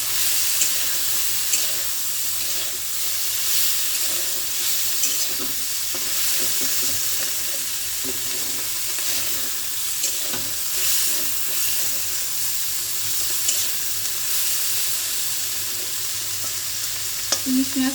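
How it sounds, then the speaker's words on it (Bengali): Hilsa fish with turmeric frying on a slow flame, giving a continuous close sizzle with soft crackling and occasional stirring scrapes, no voices. "খুব স্লো ফ্লেমে এটা রান্না করতে হবে"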